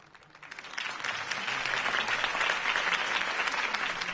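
A video game crowd applauding steadily, dense clapping that swells in the first half second and then holds loud and sustained to the end, with no talking.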